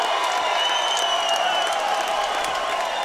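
Bare-knuckle fight crowd in Cheyenne, Wyoming on their feet, cheering and applauding in a dense, steady wash of clapping and shouts, loud and sustained.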